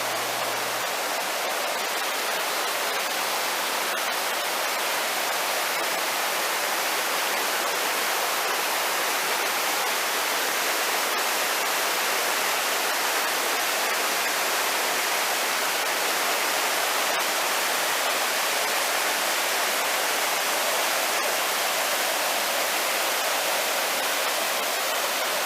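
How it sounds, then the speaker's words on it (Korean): Water from the Bukhancheon valley stream rushes in a steady, dense hiss that stays unchanged throughout, loud and close with no voices. "산영로 뒤쪽의 계곡 아래로 내려와 바라본 북한천 계곡물과"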